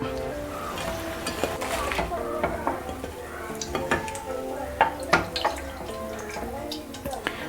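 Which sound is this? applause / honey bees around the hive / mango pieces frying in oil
mango pieces frying in oil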